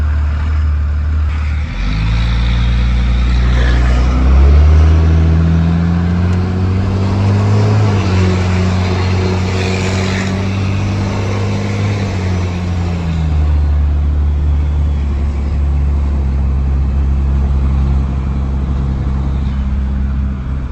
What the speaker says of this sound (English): This next acceleration is going to be me driving like a perfectly normal human being, which usually results in no smoke.